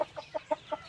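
Darag native chickens clucking close by, five short, evenly spaced clucks in quick rhythm, fairly loud and clear with no talking.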